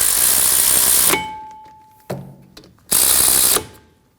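A ratchet clicks in two loud bursts of rapid pawl ratcheting as it snugs the caliper hardware bolts on a 2016-2022 Honda Pilot rear brake, with a short metallic clank between the bursts and a faint ringing tone.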